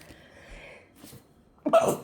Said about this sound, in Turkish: affedersiniz hapşırdım